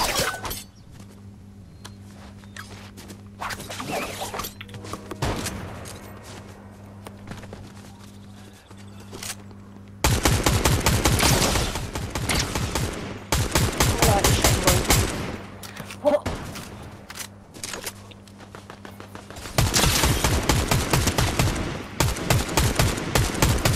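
Gunshots in the battle royale game Fortnite, starting as scattered cracks over a low steady hum, then breaking into two long, loud, fast-firing automatic bursts at close range.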